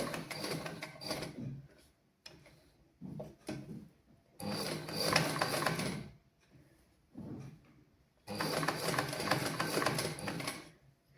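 A sewing machine stitches slowly around fabric curves, running in three long clattering bursts separated by pauses and short starts as the cloth is turned.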